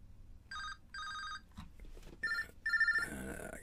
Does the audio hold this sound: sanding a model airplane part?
no